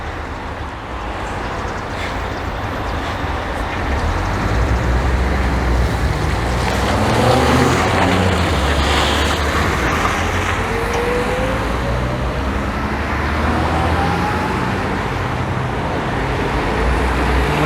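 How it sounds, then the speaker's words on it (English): Busy street traffic keeps up a continuous loud roar and rumble as many cars pass close by, with no talking over it. "I need to cross the street before I continue talking because there are so many cars"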